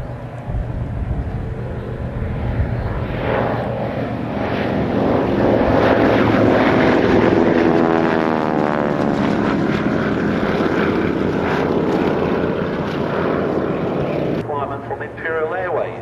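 A Spartan Executive propeller aircraft drones loudly and steadily at an airshow at Old Warden, its engine roar rising and sweeping past while someone talks over it throughout.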